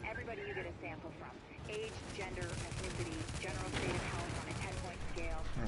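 Gunfire in The Division video game, dense bursts of rapid shots and impacts filling the scene continuously, with game effects and voices mixed in.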